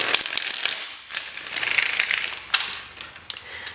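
Tarot cards are shuffled by hand in a quick papery riffle, close and crisp, with bursts of flicking and brief pauses and no talk.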